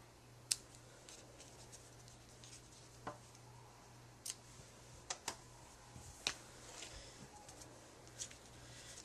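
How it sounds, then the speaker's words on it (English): Scissors trimming the tails of ribbon on a handmade card, a sparse series of quiet, crisp snips at irregular intervals, close and alone over faint room hum. "let's go ahead and trim the tails on the ribbon a little bit"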